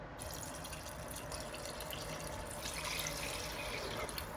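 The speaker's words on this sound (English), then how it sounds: "we're just going to quickly pop the water in" Water pours steadily into a pot of Nigerian jollof rice, a continuous splashing rush with a slight change partway through and no talking over it.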